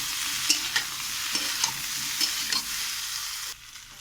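Boiled vegetables frying with raw egg, chilli powder and chaat masala in a pan: a steady sizzle broken by several distinct stirring knocks, moderately loud and close, easing slightly at the end, no voices.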